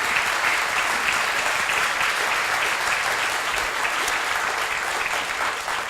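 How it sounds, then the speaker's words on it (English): Audience applause at a 2017 mayoral candidates forum, a large crowd clapping in a continuous, loud, even wash of claps that never lets up. "ask for a round of applause for all of you that are here"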